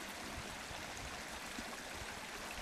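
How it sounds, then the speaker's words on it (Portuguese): Water rushes steadily down the Riacho das Crus river after heavy rain, a close, even, broadband roar with no pauses and no voices over it. "Olha aí, tá de água escorrendo desse rio,"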